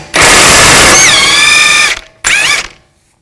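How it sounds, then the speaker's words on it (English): Two bursts of rapid, loud mechanical whirring from a powered socket wrench with a 32mm socket removing a front axle nut on a 2004-10 Toyota Sienna, a long run of nearly two seconds then a shorter one after a brief pause. "Take a 32mm socket, take the nut off."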